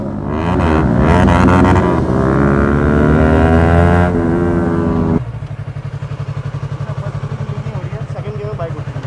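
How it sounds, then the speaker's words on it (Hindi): A Yamaha R15 V3 motorcycle doing a wheelie stunt roars loudly at high revs for about five seconds, then drops to a lower, rhythmically throbbing engine note up close. "बाइक उठ रही है"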